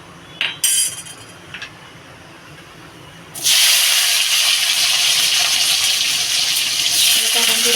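After a few light clinks, a loud sustained sizzle erupts as hog plum hits a hot pan and keeps hissing steadily.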